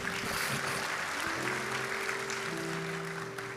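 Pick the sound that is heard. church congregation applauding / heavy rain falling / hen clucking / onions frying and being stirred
church congregation applauding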